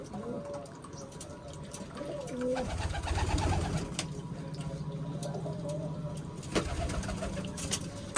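Low cooing of pigeons close by, repeated throaty calls mixed with some talking and occasional knocks and rustling.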